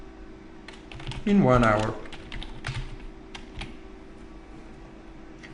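Keys on a computer keyboard tap in light, irregular clicks at a steady working pace, with a person speaking briefly over the typing partway through.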